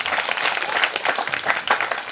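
An audience claps together at a satsang religious gathering in Aam village, Shakti district, Chhattisgarh, giving a steady, dense patter of applause that holds at an even level for a couple of seconds.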